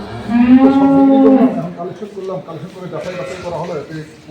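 A dairy cow lets out a loud, drawn-out moo close by on a dairy farm, followed by talking and faint farmyard background noise.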